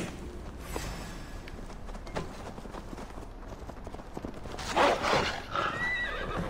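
A horse in the video game Assassin's Creed Valhalla gives a loud whinnying neigh near the end, with clip-clop hoofbeats and outdoor game ambience throughout.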